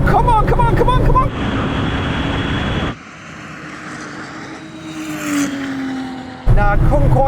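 Porsche 911 Turbo under hard acceleration in a drag race, a loud sustained engine roar with a rising pitch through the run, framed by excited voices at the start and end.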